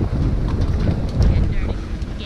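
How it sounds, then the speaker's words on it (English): Strong wind gusting across an open vegetable farm, buffeting the microphone with low rumbling noise throughout a brief stretch. "It is windy."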